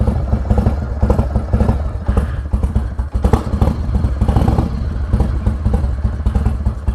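A Harley-Davidson Evo 80 cubic inch engine with an aftermarket cam idles with the enrichener pushed in, a loud, close, steady lumpy rumble with uneven thumping pulses, no talking.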